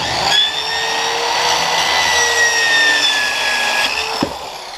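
A Harbor Freight circular saw cuts through a half-inch board of badly decaying MDF with a loud, continuous high-pitched motor whine and blade roar, steady throughout with a faint knock near the end.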